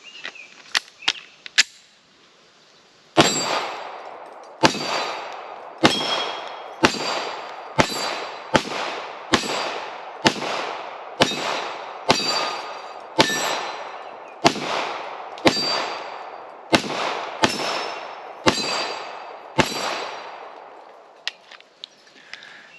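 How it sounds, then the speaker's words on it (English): A Springfield Echelon pistol fires a full magazine of 115 grain S&B full metal jacket rounds: a few quick early shots, a pause, then a steady string of about fifteen sharp, loud reports with short ringing decay. "First magazine through the Echelon, 115 grain S&B full metal jacket"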